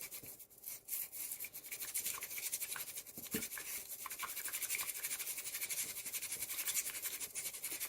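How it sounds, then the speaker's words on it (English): A bamboo whisk brushes rapidly through matcha in a bowl, a quiet continuous scratchy swishing with a fast, even rhythm. "So the idea is to whisk and whisk and whisk in a W"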